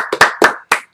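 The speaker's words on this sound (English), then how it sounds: "I'm going to be clapping." A single person claps by hand, close and loud, about four or five sharp, slightly uneven claps in quick succession within a second.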